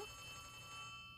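Telephone ringing inside the horror video game Poppy Playtime, a faint steady electronic ring held for about a second with no voice over it.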